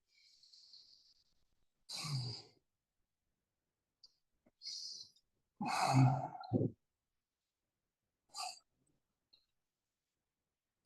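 Expressive breathing during a yoga class at a Buddhist centre: several loud, audible exhales and sighs in an uneven rhythm, separated by near silence, with soft hissy breaths between them.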